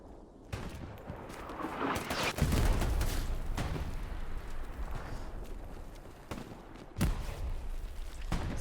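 Grenade blasts and rifle fire in the World War II shooter game Hell Let Loose during a competitive match, with dense, continuous bursts of gunfire and heavy thumping explosions recurring throughout at loud, steady intensity.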